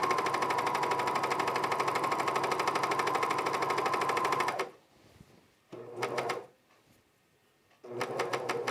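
A sewing machine stitching a Strathcona Henley shirt runs in one long loud, steady burst, then gives two shorter runs after pauses, close by and with no one talking.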